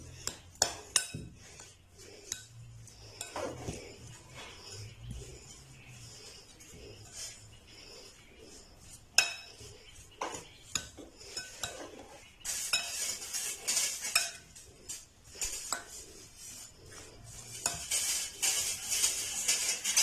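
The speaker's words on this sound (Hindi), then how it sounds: "अब इन सारी चीज़ों को अच्छी तरह जो है वो मिक्स कर लेंगे।" A spoon mixing and mashing spices for a potato-stuffed bread pakora filling, with repeated close clinks and scrapes against a bowl, growing busier and brighter toward the end.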